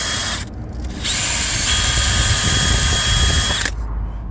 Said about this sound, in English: I'm going to get the wire brush on my drill and I'm going to clean that ABS ring up